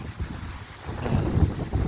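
Low rolling thunder rumbles through a night lightning storm at Thung Wua Laen beach near Chumphon, Thailand, with rain hiss and gusty wind noise building toward the end.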